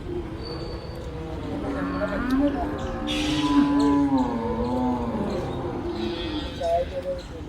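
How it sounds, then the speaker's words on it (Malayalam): Buffalo calves at a Sunday livestock market moo repeatedly in drawn-out, wavering calls, several overlapping near and farther off, while people talk in the background and birds chirp faintly. "സീമക്കാളക്കുട്ടി ഒരു കൂട്ടം പോത്തുകുട്ടികൾ"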